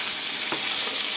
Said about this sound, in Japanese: ここはもうね、炒めるだけの作業やから